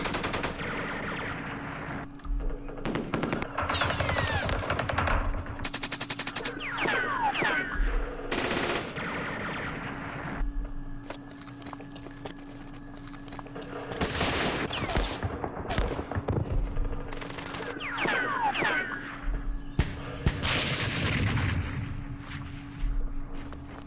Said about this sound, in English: Damn, those recoilless rifles. And machine guns.